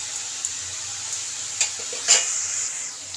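Slit green chillies go into a pan of sizzling leafy greens, giving a soft, steady sizzle with a few light clinks and scrapes of a spoon against the pan.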